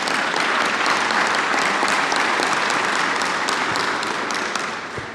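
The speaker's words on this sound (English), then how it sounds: "give yourself a round of applause" A room of audience members at a county legislative event gives a sustained round of applause, loud and dense throughout before easing slightly at the end.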